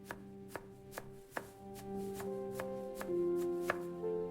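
A knife chops a tomato on a board in a home kitchen, with sharp close taps in an uneven rhythm and a low background hum, no talk.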